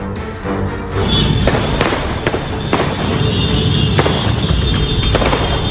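Fireworks set off by a gang convoy along a street in Semarang, Central Java, give repeated sharp crackling bursts over a constant roar of traffic and crowd noise.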